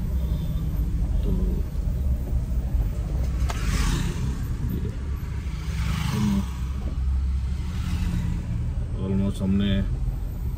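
A car drives along a good mountain road toward Pithoragarh, a steady engine rumble and road noise throughout, with people talking over it at intervals.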